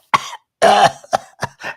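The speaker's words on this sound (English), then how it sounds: "turn up the volume for the songster's cough" A singer coughs and clears the throat on a recording, a sharp cough followed by a longer harsh hack and several shorter throaty bursts, loud and close with silence between.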